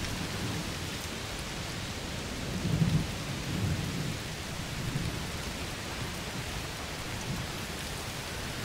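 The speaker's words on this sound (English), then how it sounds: "Must be a heat storm." Thunderstorm in the game A Plague Tale: Requiem, steady hiss of rain with low distant thunder rumbles rolling in around the middle, continuous and moderately quiet, no talk.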